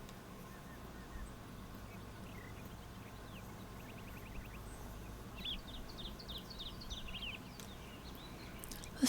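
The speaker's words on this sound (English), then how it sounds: "Listen to the lovely little birds." Small birds chirp and trill in the video game Enshrouded, light scattered calls in short bursts over a low ambient background.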